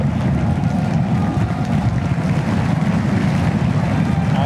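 SpaceX Starship rocket launch with all engines lit, Flight 10, a dense, continuous low roar filling the air, loud and steady, heard from a distance with wind buffeting.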